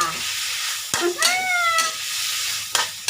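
Chicken offal and sator beans are stir-fried in a pan with a steady sizzle and a few sharp scrapes of a spatula. A cat meows faintly and briefly in the background.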